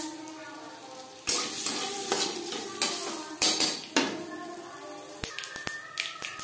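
Masoor dal with turmeric is stirred in a pan over a low flame, with a spoon scraping and clinking against the metal in sharp irregular knocks, close and fairly quiet, with no talk.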